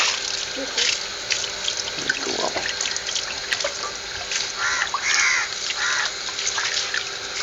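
Quail meat is rinsed under a running tap with steady splashing water, crows cawing in the background, and brief voices nearby.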